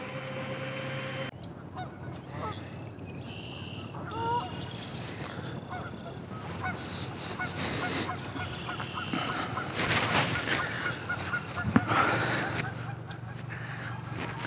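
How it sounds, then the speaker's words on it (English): Geese honk loudly and repeatedly amid other calling birds outdoors on a still, cold morning at a building site, a busy layered chorus with a person talking over it. "The birds are going crazy."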